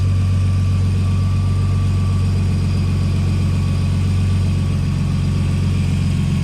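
A Nissan S13 RB20DET engine, after a track failure, idles steadily at close range, a constant low rumble with a faint mechanical ticking and no speech.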